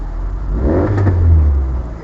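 A 1971 Austin 1300GT engine catches and revs, a loud, close burst of mechanical roar that swells and holds for a couple of seconds with no talk over it.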